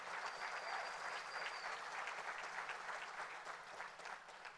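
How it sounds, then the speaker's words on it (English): A crowd applauds Edinburgh police officers and firefighters at a State of the City address, a steady, fairly faint wash of many hands clapping that holds evenly throughout before easing slightly at the end. "Please join me in a round of applause for our outstanding Edinburgh police officers and"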